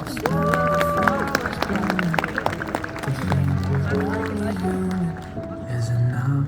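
Wedding guests at a garden venue clapping and cheering together, a broad patter of applause under prominent voices and tonal calls near the microphone throughout.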